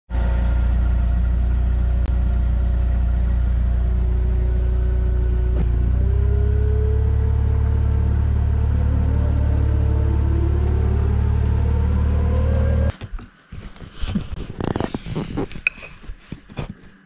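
A car driving on Australian roads while carrying potato boxes, a loud, steady engine rumble that runs unbroken for about thirteen seconds, then cuts out and gives way to scattered knocks and handling noises.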